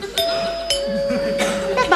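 A doorbell rings with a clear two-tone ding-dong, the chime struck repeatedly and ringing on, near and loud, with faint voices underneath.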